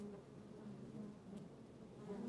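Wild honey bees buzzing near their nest, a low steady drone from several insects, faint and continuous with slight swells as they fly close.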